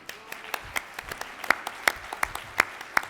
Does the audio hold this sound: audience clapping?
yes